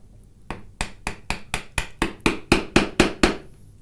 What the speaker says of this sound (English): I'm going to put this knife chisel right into that line